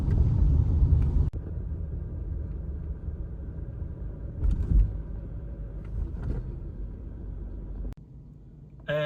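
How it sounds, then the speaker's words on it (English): Mazda car driven on a road test after a suspension stabilizer end link repair, a steady low engine and road rumble heard from inside the cabin, with a few soft knocks and clicks. "now we're just going to test drive the car"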